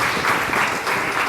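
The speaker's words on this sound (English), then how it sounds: "So clap for her that she stood up." An audience at a women's leadership conclave in Hyderabad bursts into applause: a short, dense patter of many hands clapping together at moderate loudness.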